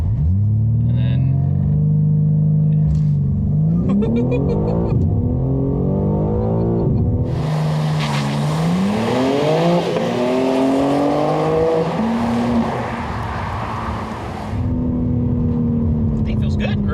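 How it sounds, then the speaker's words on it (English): A stock BMW G80 M3 revs and accelerates hard from a standstill after a brake-and-throttle launch, with a loud engine note climbing through gears and a rushing burst in the middle while people talk inside the car. "mash the brake pedal, mash the gas"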